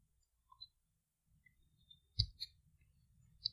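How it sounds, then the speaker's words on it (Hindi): A computer mouse clicks on an Ubuntu desktop, giving a few faint, sharp clicks spaced apart in a very quiet room, with a slightly stronger pair near the middle. "इस पर क्लिक करते हैं।"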